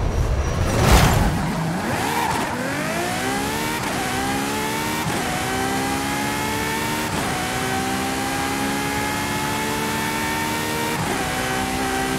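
A 2018 Ferrari FXXK Evo engine in Forza Horizon 5 climbs through the revs in long, steady pulls, with brief dips at each upshift and a bright, loud whine. A short burst of noise comes first, and the engine carries on alone.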